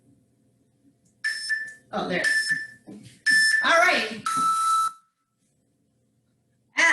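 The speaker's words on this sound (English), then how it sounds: "Can you guys hear this timer?" A workout interval timer beeps in long, steady electronic tones, three or four times across the stretch, with a person briefly talking between the beeps during a bodyweight bootcamp session.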